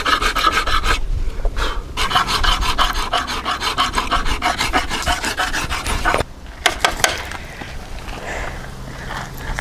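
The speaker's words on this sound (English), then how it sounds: "I've been coming back with the file to smooth it." A hand file rasps along a knife blade in fast, regular back-and-forth strokes, loud and close, with a couple of brief pauses between bursts.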